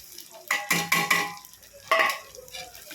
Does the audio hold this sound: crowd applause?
no